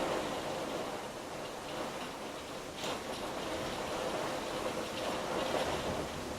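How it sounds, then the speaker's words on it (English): Heavy rain at the tail end of a storm comes down hard as a dense, steady roar with wind buffeting the mic, loud and continuous throughout with no talk. "this is just the tail end of the storm. It's just coming down like mad."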